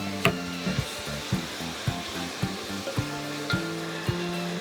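Vegetables sizzle in extra virgin olive oil in a pan, a steady hissing fry with soft rhythmic knocks from stirring or tapping, no voices.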